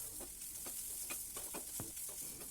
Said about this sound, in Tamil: இதையும் சேர்த்து நல்லா கலந்து விட்டுக்கிடலாம்